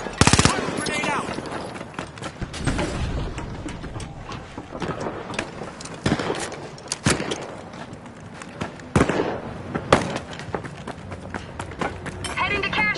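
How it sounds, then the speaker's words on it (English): Grenade blasts and bursts of gunfire from a first-person shooter video game, heavy booms and rapid rattling shots layered over one another under shouted voices throughout. "Grenade out!"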